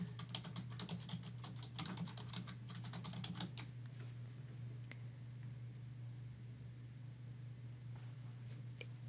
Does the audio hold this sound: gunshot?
no